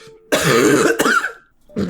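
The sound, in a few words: cough and throat clearing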